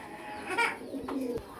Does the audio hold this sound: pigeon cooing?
yes